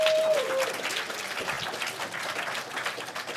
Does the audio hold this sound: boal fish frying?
no